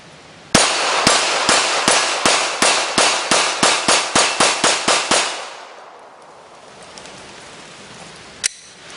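A Glock 19 handgun is fired in a rapid string of about fifteen sharp, loud shots at a steady rhythm, followed by quiet and a single later clack.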